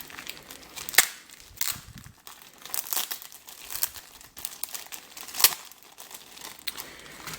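Crinkly plastic bags rustle and crackle up close as WW1 and WW2 militaria items are unwrapped, with irregular sharp crinkles and a few louder snaps.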